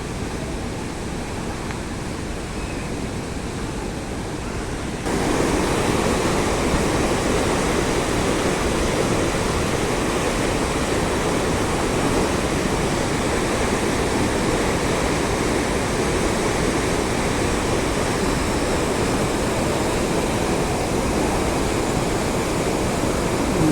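Water roars from the released dam gates at KRP Dam in Krishnagiri as a dense, unbroken rush that jumps louder after a few seconds and holds steady and close throughout.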